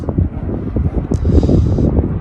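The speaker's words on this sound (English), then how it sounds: "It's still a bit windy, as you can probably hear." Wind buffets the microphone on Lowestoft stone pier, a steady low rumbling roar that gusts and swells throughout, loud and close.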